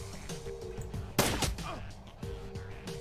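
A single gunshot in the Shadowrun Returns turn-based game rings out sharply and then fades over a short tail, set against a low humming game soundtrack.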